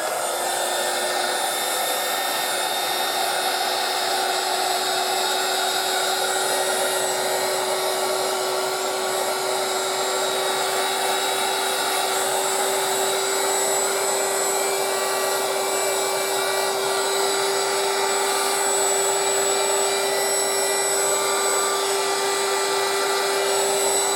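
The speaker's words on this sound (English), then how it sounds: "So I'll get my blower again." A handheld blower runs steadily over a freshly poured epoxy resin tray holding a tattoo-style design, a constant loud whir with a steady tonal whine and no pauses, with no one speaking.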